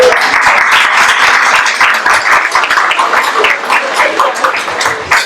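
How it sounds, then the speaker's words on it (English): Loud, close applause from a crowd, many hands clapping in a continuous dense patter that swells slightly and keeps going. "let's give a little round of applause"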